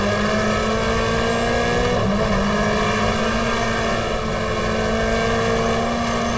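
Touring race cars of the 1994 GTR2 Australian Manufacturers Championship, a Mercedes among them, roar around Lakeside circuit: a loud, continuous, close engine drone that holds at high revs with no pauses.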